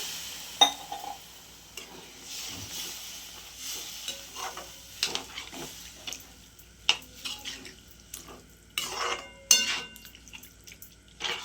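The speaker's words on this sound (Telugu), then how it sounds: "తర్వాత వాటర్ అయితే వేసేసుకోండి" Water goes into a hot pan of small fish, setting off a sizzle with watery splashes and scattered clinks of utensil against pan, all close and moderately loud with no voices.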